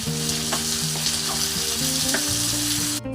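Tomato and asafoetida with spices frying in a pan, a steady broadband sizzle with occasional stirring clinks, close and continuous with no talking.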